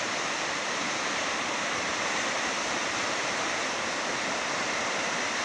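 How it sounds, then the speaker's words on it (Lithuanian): Ice floes churn under water at a river bend at Kaunas Santaka during a storm, making a loud, unbroken roar of rushing water that holds steady from start to finish with no voices. "Įspūdingai ledai grūdosi po vandeniu ant posūkio"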